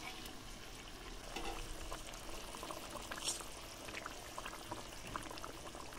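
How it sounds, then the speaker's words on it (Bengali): A Bengali fish curry broth with fried potol fish added boils in a pot, giving a faint, steady bubbling and simmering hiss with a few soft pops, no voices. "মাছের ঝোল খুব ভালো করে ফুটিয়ে নিয়েছি।"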